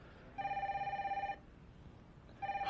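A telephone rings in two bursts of rapid electronic trilling, the second cut off at the end, close and clear over a faint room hiss; no voices.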